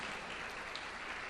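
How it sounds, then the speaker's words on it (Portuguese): A church congregation applauds a newly welcomed group of members during a Sunday morning service, a dense, steady wash of many hands clapping together at a moderate distance with no pause. "Uma salva de palmas para esse batalhão"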